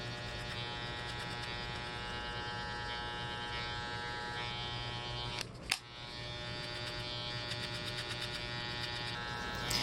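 Electric hair clippers buzz steadily and close while cutting a drop fade, a constant motor whine with one brief sharp knock midway.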